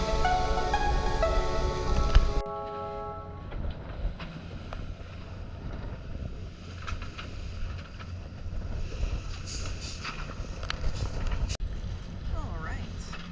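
Strong wind buffets the microphone aboard a liveaboard dive boat, a rough, gusty roar over engine rumble and water, with voices talking at moments.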